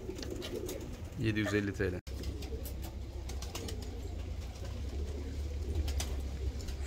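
Japanese fancy pigeons at a breeder's loft coo in low, throaty bursts, strongest around the first two seconds, while someone talks over them almost continuously.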